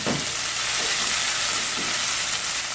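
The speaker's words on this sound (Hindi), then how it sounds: "मेथी दाना और ज़ीरा की इस तरह फ्राई करने से बहुत ही अच्छी खुशबू आती है" Fenugreek seeds and cumin frying in hot oil, a loud, dense, continuous sizzle heard close up and alone, with no talking.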